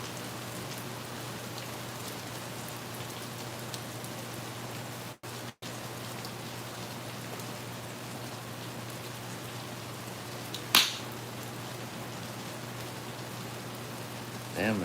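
Steady rain falls outdoors as a constant, even hiss, with two brief dropouts in the middle and a short louder noise later on.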